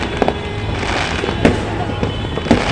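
Fireworks going off at Cotabato City, with sharp bangs and crackling bursts at irregular intervals over a continuous crackle, fairly close and loud, while people talk nearby.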